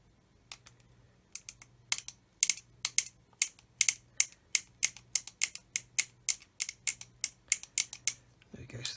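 An ejector pin mark being scraped off a plastic part of a Tamiya 1/16 RC Sherman tank kit: about twenty short, crisp scraping strokes close up in a steady rhythm over a faint low hum.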